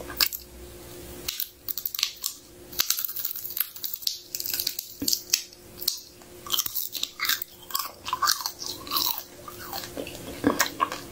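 Wet, crunchy munching of chicken wings, with close, irregular bites and chewing that keep going throughout.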